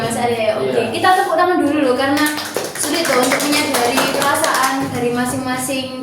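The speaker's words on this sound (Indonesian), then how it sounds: "kita tepuk tangan dulu" Small group clapping hands during a group counseling session, sustained patter blended with overlapping voices talking and laughing close by.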